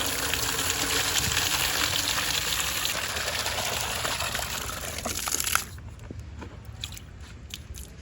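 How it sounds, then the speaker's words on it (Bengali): Water pours steadily onto rooftop potted plants in a broad, continuous splashing gush that cuts off abruptly near the end, leaving quieter scattered drips and faint background sounds. "সব গাছগুলাতে পানি দেব।"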